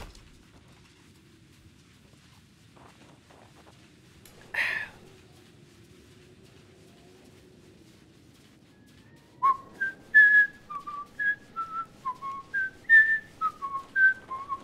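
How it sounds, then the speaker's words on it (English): A short run of bright, electronic beeping notes from a robot character in the video game Kenshi plays a quick little melody, like a synthetic whistle, after a brief chirp earlier in a quiet background. "he can play a little tune that sounds like a whistle, like a little beep, beep, beep."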